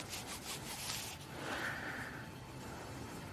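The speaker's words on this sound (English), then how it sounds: "let's give it a rub on the trousers" A small metal-detecting find, likely a worn coin, rubbed briskly on trousers: a soft, steady scratchy rubbing that is close and quiet, continuing for a few seconds with no talk.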